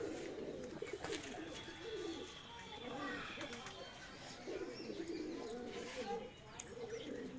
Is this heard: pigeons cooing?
yes